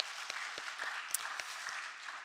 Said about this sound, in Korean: 우리 잘 왔다고 격려의 박수 같이 해주시면 좋겠습니다.